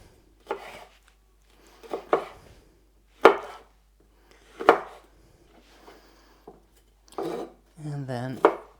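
A knife cuts pointy green sweet peppers into small cubes on a cutting board, giving a series of separate, close, sharp chops with pauses between them and a brief rustle near the end.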